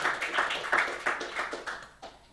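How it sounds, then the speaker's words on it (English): Applause from a conference audience honouring absent contributors, a brief burst of many hands clapping that starts loud and tapers off over a couple of seconds. "A round of applause for them"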